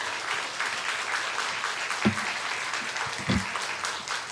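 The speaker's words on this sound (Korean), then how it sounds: "우리 목사님 나오실 때 크게 박수로 환영해 주시기 바랍니다." A church congregation claps loudly to welcome the pastor at a youth-week service. The dense applause is steady, with a couple of sharp thumps breaking through.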